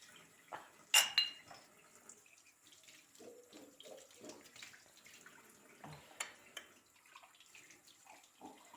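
Dishes washed under a running tap of lukewarm well water, soft continuous trickle with scattered clinks of plates and cutlery, quiet and close, no talk.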